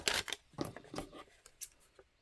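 Scissors snip through paper folded for a heat-embossed sunflower craft card, giving a few quick close crisp cuts with short rustles between them.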